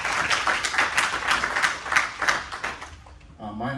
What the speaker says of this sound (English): please give a big round of applause and welcome to our panelists